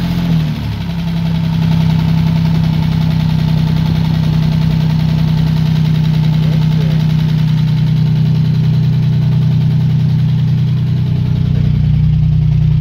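A 1945 Jaguar MkIV engine idles at a steady 1500 rpm, a loud, even rumble held close and unbroken throughout.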